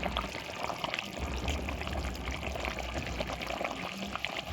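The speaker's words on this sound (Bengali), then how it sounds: "জল দিয়ে দিলাম" Water pours steadily into a pot of cooking vegetables for a fish curry, a continuous splashing gush without pause, close and fairly loud.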